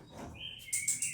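An orange-headed thrush (anis kembang) gives a short rising whistle followed by a few bright, high chirps, fairly faint and close, with no talking.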